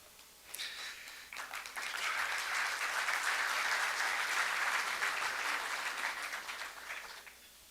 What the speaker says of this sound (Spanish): lo cual le aplaudimos